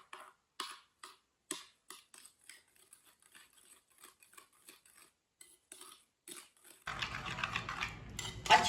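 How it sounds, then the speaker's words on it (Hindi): A spoon scrapes and clinks against a bowl while salt, garam masala and other sandwich filling ingredients are mixed together, giving irregular taps up close, then a louder, steadier scraping stir near the end. "सब चीजों को अच्छी तरह मिक्स कर लेंगे।"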